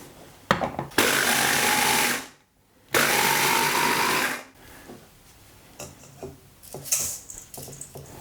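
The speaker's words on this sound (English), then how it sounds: "Crush cookies in a food processor." A food processor crushes cookies in two loud bursts of whirring blade noise separated by a short pause, followed by quieter clattering and handling sounds.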